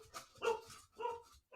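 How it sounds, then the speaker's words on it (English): A dog barks a few times indoors, short faint woofs spaced apart, heard from a distance in a quiet room. "That was the dog barking"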